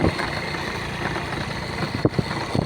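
A motorcycle is ridden along a scenic road, giving a steady, fairly loud drone of engine and wind noise, with a few soft knocks near the end.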